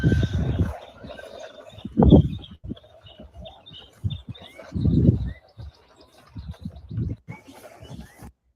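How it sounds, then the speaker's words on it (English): Birds chirp and call intermittently in the background, with occasional cooing, amid scattered outdoor noises and bumps. "y'all hear the birdies chirping?"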